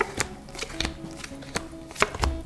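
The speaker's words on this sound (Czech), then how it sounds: "já si tady rozložím karty" Tarot cards laid out on a table, giving a series of light, crisp taps and slaps at an uneven pace, close and fairly quiet, with no talking.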